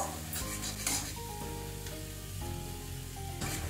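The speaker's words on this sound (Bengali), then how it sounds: "অল্প অল্প জল দিয়ে দিয়ে মশলাটাকে আমি কষিয়ে নিচ্ছি।" Spice paste with coriander powder and a splash of water is stirred and sautéed for dhokar dalna, a steady sizzle with scraping strokes of the spoon, while soft music plays underneath.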